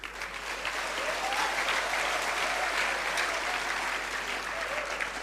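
Sustained audience applause fills a lecture hall at a public lecture, dense steady clapping from many hands, loud and continuous throughout with no talk over it.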